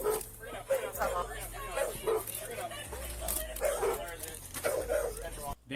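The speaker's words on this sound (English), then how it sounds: "Then you have dogs in the background too." Dogs bark and yip in the background, repeated short bursts under ongoing speech in a noisy indoor scene.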